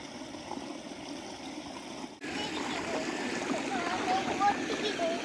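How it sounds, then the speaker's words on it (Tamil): Fast-flowing stream water rushing steadily near a boat, a constant broadband wash that grows louder and fuller partway through, with occasional small splashes. "இவ்வளோ நீரோட்டம் இவ்வளோ வேகமாக ஓடுற தண்ணியில்"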